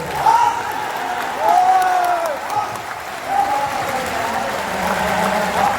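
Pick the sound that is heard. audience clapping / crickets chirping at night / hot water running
audience clapping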